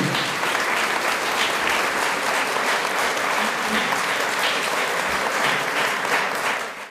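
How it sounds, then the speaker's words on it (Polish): Warm applause from a concert audience welcoming a performer onto the stage, dense and sustained for several seconds at an even level before tapering off at the end. "Gorące brawa przed Państwem, Dariusz Urbik."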